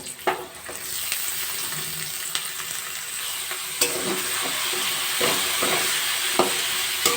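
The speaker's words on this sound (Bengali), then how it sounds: "সমস্ত উপকরণগুলো একসাথে ভালো করে ভেজে নেব" Carrots, beans and capsicum frying together with potatoes in a pan, a steady close sizzle with stirring scrapes and occasional clacks of a spatula throughout, no talking.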